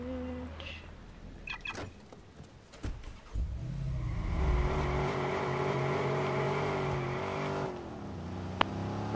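Car engine in Watch Dogs: after a few scattered clicks and thumps, the engine starts and revs up, then holds a steady, loud, close drone before cutting off, with a sharp click near the end.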